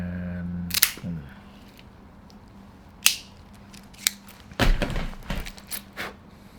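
A handheld cutter snips through a cigar cap in a few sharp, close clicks spread apart, with faint rustling and handling noise between them and a cluster of quicker clicks toward the end.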